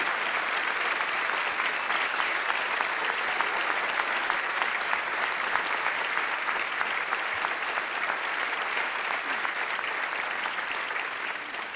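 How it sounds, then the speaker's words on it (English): An audience at an annual conference gives Sandy's Sullivan Renaissance team a round of applause, a long, steady, even clapping from a large room that carries on for about twelve seconds and tapers slightly at the end. "they deserve a round of applause"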